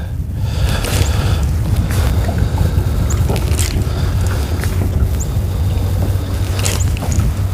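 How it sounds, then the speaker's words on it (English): Steady low rumbling wind noise buffets the microphone outdoors on a fishing trip, continuous and loud throughout with faint higher hiss and scattered small knocks. "That wind is really picking up"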